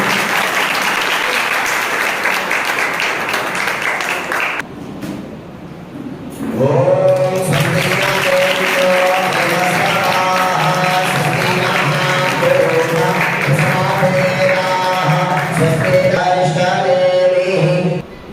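A crowd applauds to welcome a guest at a religious ceremony at a coaching institute, sustained loud clapping that dips briefly and then resumes with music over it.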